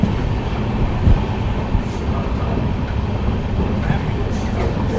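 Amritsar-Bikaner Superfast Express rolling along at good speed, a steady broadband rumble of the carriage with faint clattering throughout, heard from inside the train.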